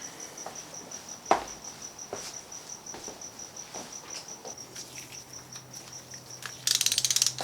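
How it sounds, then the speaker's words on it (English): A ratchet tightens the power steering pump bolts on a BMW E9X M3. Faint scattered ticks sit under a steady high whine, then a short, rapid burst of ratchet clicks comes near the end. "Let's tighten up the power steering pump bolts."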